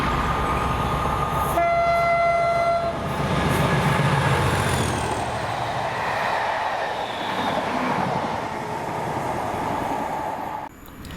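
A Class 37 diesel locomotive, 37116, hauls a train with an ex-DRS Mark II coach past on the line from Slateford Depot to Falkland, sounding a loud two-second horn blast over a heavy engine roar and rolling wheel noise.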